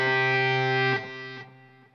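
Distorted electric guitar playing a phrase with hybrid picking: a held, heavily overdriven note rings for about a second, then two quick new notes are plucked and decay, with no talking.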